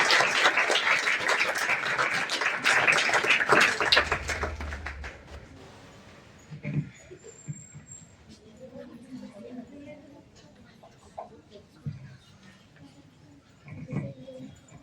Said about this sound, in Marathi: आपण सर्वांनी एकदा जोरदार टाळ्या वाजवाव्यात